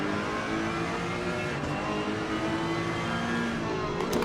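Onboard a Ferrari race car lapping Zandvoort in a racing video game, with a loud sustained engine whine under acceleration and no voices.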